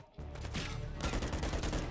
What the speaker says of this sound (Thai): โอ้ลูกซองระยะนี้ยังได้อยู่ฮะ